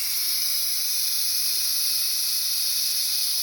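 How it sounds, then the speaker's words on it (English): Steam hisses out of a pressure cooker's release valve while smothered chicken, rice and gravy, and pinto beans cook, a loud, steady, high-pitched jet that holds constant from start to finish with no talking. "So here the steam is releasing."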